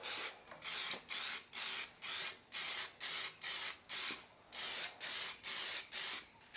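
Superwrap coating sprayed from an aerosol can around the outer rim of a wheel, in about a dozen short, even hissing bursts with brief gaps, close and steady.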